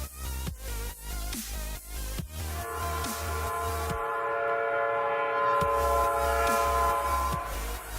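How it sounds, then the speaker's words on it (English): A train rumbles past close by with rhythmic clacking of wheels over rail joints, and a long sustained horn blast sounds midway through. "Of course there'd be a train going by."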